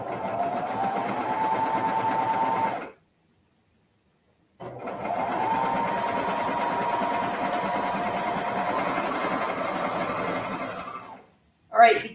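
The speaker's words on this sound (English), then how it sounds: "we'll sew the short edge here." Sewing machine stitching the short edge of ruffle fabric pieces for a skirt, running in a steady continuous whir, stopping for a couple of seconds, then resuming for a long even run before halting with a brief final clunk.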